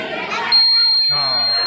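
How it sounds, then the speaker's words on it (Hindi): A school science-exhibition fire alarm model sets off a steady high-pitched electronic tone that starts abruptly and holds, ringing loud and close while people talk and a crowd murmurs around it. "इससे अलार्म बजता है।"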